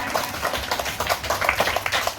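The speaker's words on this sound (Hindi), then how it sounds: "जोरदार तालियों से आज के दिन की शुरुआत करना चाहेंगे।" Applause opening an Independence Day celebration at a kids' coaching centre, a crowd clapping steadily and fairly loudly with overlapping hand claps for a couple of seconds.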